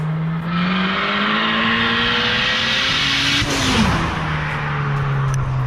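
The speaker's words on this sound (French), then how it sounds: "C'est la Westgate externe qui fait tout ce bruit là." A tuned stage 3+ Skoda Octavia of about 550 horsepower with an external wastegate revs up close by, a rising engine note that peaks then drops as a loud hissing whoosh of released pressure follows.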